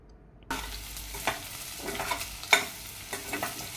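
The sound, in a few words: stirring masala into frying egg rice in pan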